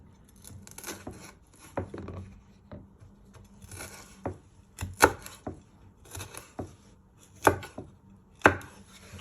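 A knife slices through chilli on a cutting board for a Thai-style chicken and ribs dish, giving a series of sharp, close chopping taps with uneven spacing over a soft background, and no talking.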